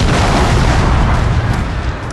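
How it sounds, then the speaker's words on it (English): Massed musket and cannon fire from troops in a Shogun 2 Total War battle at Fort Wagner, a loud, dense rumble of overlapping booms and cracks filling the whole moment. "we're gonna open fire here."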